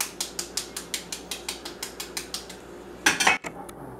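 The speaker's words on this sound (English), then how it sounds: "On the big end of your egg, take the butt of a knife" The butt of a knife taps the big end of an egg to crack it, giving about fifteen quick, evenly spaced close clicks followed by a brief louder crunch of breaking shell.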